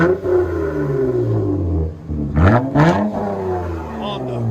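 A 2003 Honda Accord 3.0L V6 with manual transmission and dual straight-pipe exhaust revs hard in two sharp, loud blips after a lower idle drone, heard up close.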